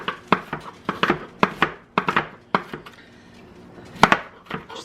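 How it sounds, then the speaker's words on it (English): Knife chopping food on a board for chili soup, a quick series of sharp, close, evenly spaced chops with a short pause before a final burst of cuts. "So we're gonna get that chopped up."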